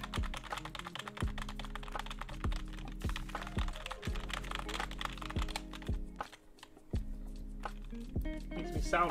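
Rapid clicking of a computer keyboard being typed on, with heavier thunks from keys struck hard, steady and close, pausing briefly before resuming.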